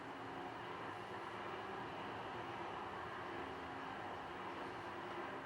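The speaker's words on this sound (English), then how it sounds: "That's a train." A train passes outside, heard as a faint, steady broadband rumble that stays even from start to finish, with no talking.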